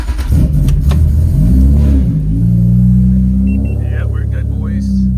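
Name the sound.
Acura TL Type S car engine starting up after fuel pump install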